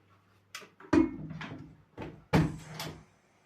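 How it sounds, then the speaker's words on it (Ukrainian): A lid closes onto a cooking pot of plov with spices and meat, giving several soft knocks and clatters, about four short impacts spread over a few seconds in a quiet kitchen. "Закриваємо кришку беремо."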